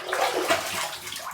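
Running water splashing as a face is rinsed after a shave with a shave stick and brush, a steady close hiss with small surges and no talking.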